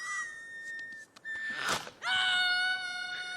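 A young green sauropod in the animated film The Good Dinosaur gives a thin, high, pitiful wailing scream in whistle-like drawn-out cries, with a brief thump partway through.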